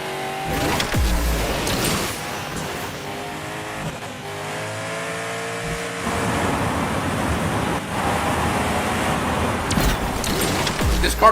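A racing car engine in the video game Asphalt Legends Unite roars loud and close, revving with rising gear sweeps, brief tire squeal and constant road rush, with no talk over it.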